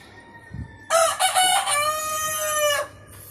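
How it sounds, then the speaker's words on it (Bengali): A rooster crowing at dawn near a rooftop garden: one loud, close, drawn-out crow rising over a quiet background, with a faint cluck just before it. "মোরগগুলা ডাকাডাকি করে বুঝাচ্ছে"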